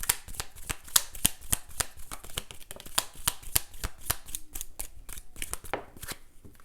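A deck of tarot cards is shuffled by hand, producing rapid, crisp riffling bursts in a brisk irregular rhythm, close and fairly quiet, with no talking.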